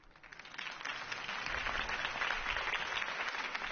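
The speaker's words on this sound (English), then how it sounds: "could have heard that applause" A crowd in a Batman video game bursts into steady applause, many hands clapping in a dense, sustained wash that holds at an even level.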